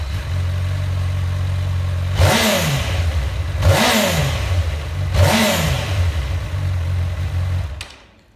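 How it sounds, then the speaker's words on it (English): A 2010 Honda CB1000R motorcycle engine idles with a steady throb, then gets three sharp throttle blips with intake roar, each rising and falling back to idle before the engine cuts off at the end. "Cracking intake noise on these, really, really nice to ride."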